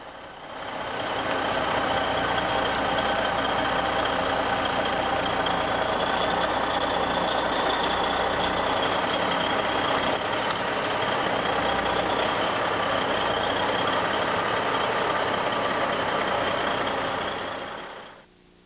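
A 30,000-pound semi-truck presses down on a Burton snowboard binding, its engine droning loud and steady at close range for the whole stretch, with a faint reversing beep and no talk.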